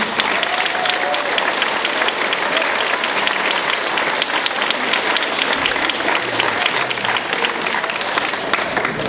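A large dinner audience applauds to welcome guests, a dense, even wash of many hands clapping at once that stays loud and steady the whole time with no pauses.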